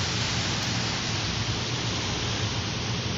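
Rain falls steadily outdoors, a dense, even hiss that stays constant and close throughout with no voices.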